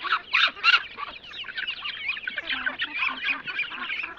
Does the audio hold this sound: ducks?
yes